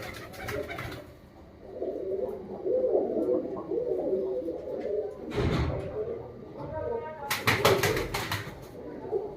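Pigeons coo softly and repeatedly inside a large pigeon loft, a low warbling murmur throughout, with brief rustles and bangs and people talking nearby.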